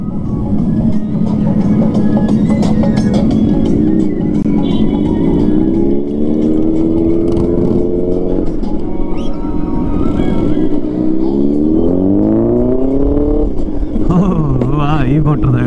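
A motorcycle carries riders along a road near a haveli in Jalandhar, its engine droning steadily and loud throughout, with rising and falling tones as it moves, while people talk over the ride.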